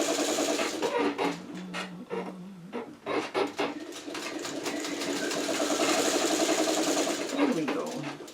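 Sewing machine stitching quilt blocks together for a churn dash quilt, a steady rapid needle chatter running through most of the stretch, with brief pauses and faint handling noise between bursts.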